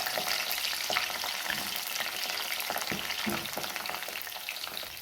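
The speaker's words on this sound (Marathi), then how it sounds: "तेल पण गरम झालेलं आहे आता यामध्ये आपल्याला ही वांगी सोडायची आहेत" Brinjals sizzle in hot oil in a kadai, a steady close frying hiss with intermittent louder crackles and bursts, even in level for the whole stretch, with no talking.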